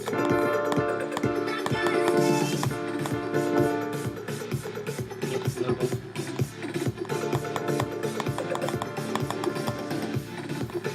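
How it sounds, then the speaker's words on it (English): Piano chords ring out within a full EDM house mix, sustained harmonies layered over steady rhythmic accompaniment, continuous and fairly loud throughout. "And if you play the piano chords"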